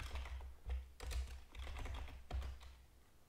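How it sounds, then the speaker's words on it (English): Quiet typing on a computer keyboard while entering a Linux terminal command, with soft key clicks in short irregular bursts and small pauses, nearby and without talk. "I'll just type that."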